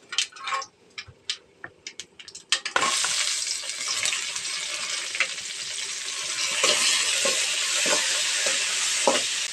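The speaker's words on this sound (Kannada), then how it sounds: "ಈಗ ಫ್ರೈ ಆಗಿದೆ, ಈರುಳ್ಳಿ ಫ್ರೈ ಆಗ್ತಾ ಬಂತು" Chopped onion, tomato and green chilli dropped into hot oil in a pan for upma, starting with a few sharp clacks and then a loud, steady hiss of frying that continues throughout with occasional stirring taps.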